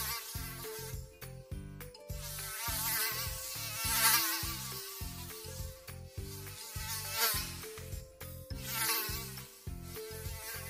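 A tiny mosquito buzzes around a sleeping boy's ears in a children's animated story, a steady insect drone woven through a bright, rhythmic musical backing that never pauses.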